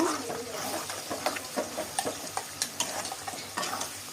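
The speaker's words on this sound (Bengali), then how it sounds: "দেখি আজকে আমার আম্মু ভাজি করতেছে, দেখি কেমন হয়।" Chicken skin frying with garlic and chili in a home pan, a steady loud sizzle broken by frequent sharp spattering pops and stirring scrapes, without voices.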